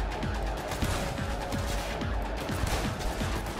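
Rapid gunfire in Cyberpunk 2077, a steady run of sharp shots fired from a moving vehicle, loud and dense with crashing impacts over a continuous rumbling backdrop.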